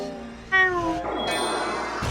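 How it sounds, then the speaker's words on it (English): A cat meows at close range during a Super Mario Galaxy Luigi speedrun stream: one drawn-out, tonal meow over steady game audio, then a second brighter cry, with no talk. "stream heard the meow"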